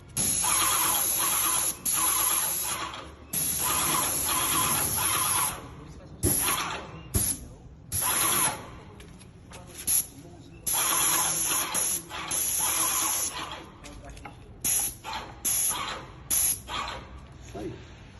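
A 900W airless paint sprayer hisses in long, loud bursts that start and stop abruptly. Shorter spurts follow, with quieter handling noise between them.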